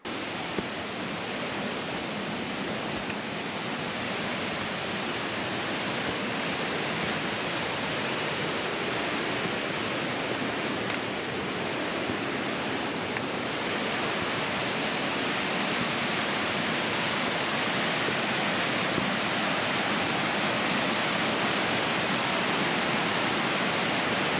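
A loud, steady roar of falling water fills the whole stretch, broadband and unbroken, like standing close beside a waterfall.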